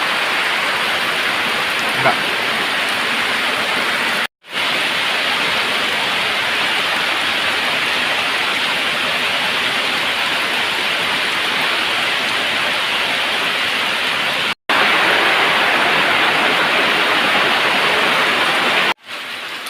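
Heavy rain pouring steadily, a dense continuous hiss of water on surfaces, loud and close, broken only by brief cuts, with no talking over it.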